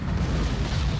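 Artillery fire in a strategy video game, a dense, continuous low rumble of booms and blasts that fills the whole moment without letting up.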